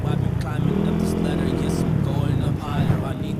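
A motorcycle's exhaust comes through muffled inside a Spyder Recon 2 Breezy helmet as a low, steady drone with a slight rise and fall over a few seconds.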